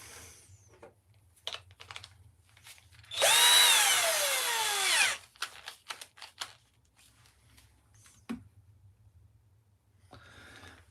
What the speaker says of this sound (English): We're going to drill this.